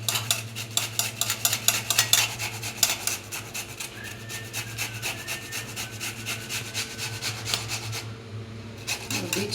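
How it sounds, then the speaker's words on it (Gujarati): Washed bottle gourd is grated directly on a hand grater for Gujarati handvo, a fast run of rhythmic rasping strokes up close that stops briefly near the end before resuming, with a steady hum underneath. "હવે દૂધી છીણાઈ ગઈ."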